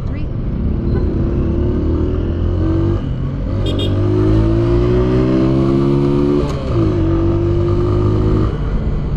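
A car accelerates hard through second and third gear, engine pitch climbing steadily then dropping at each shift, loud and close throughout, with no talk over it.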